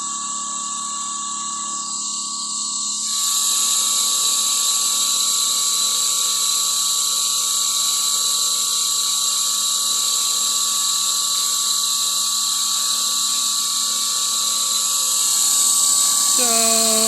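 A rotovertor motor coupled to a DRMG generator runs under power, giving a steady, loud high-pitched electrical whine and hum that steps up after a few seconds and holds constant, with a tone shift near the end.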